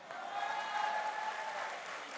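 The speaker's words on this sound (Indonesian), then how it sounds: "Aplaus dulu, beri dulu dong." A crowd at a gathering with a regional governor and Golkar party leaders breaks into steady, even applause, a dense wash of clapping that holds for about two seconds with faint voices beneath it.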